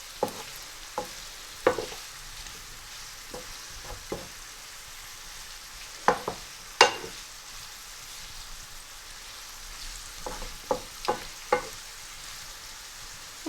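Potatoes coated in spice fry gently over low heat, a quiet steady sizzle broken by scattered clinks and scrapes of stirring, no voices.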